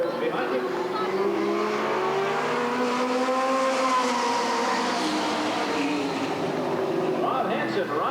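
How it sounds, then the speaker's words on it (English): Super stock cars, a Buick leading three Camaros, roar around a short raceway in a dense, steady pack, engine pitch sweeping as they pass, under continuous excited commentary from an announcer. "Hansen in the Buick with 3 Camaros behind him."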